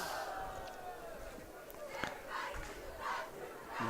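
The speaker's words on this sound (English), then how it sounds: "a very good crowd here" A crowd at a college football game, Averett vs. Methodist at Danville Stadium: a broad, distant roar of voices with swelling shouts, heard under a close commentator's voice.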